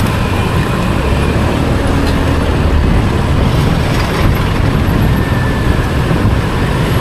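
Fast-moving road traffic near Philcoa in Quezon City, a steady, loud broadband roar of passing cars, buses and trucks close by, with no break across the whole stretch.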